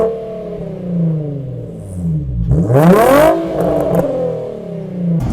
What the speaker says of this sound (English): So I put the Magnaflow Resonators on, and it really smoothed it out the tone, and it made it sound very nice.